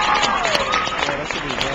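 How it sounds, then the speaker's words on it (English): A school audience at a hypnotist's career-day show bursts into a thick, steady round of clapping and crowd noise, loud and continuous throughout the short stretch. "Give him a round of applause."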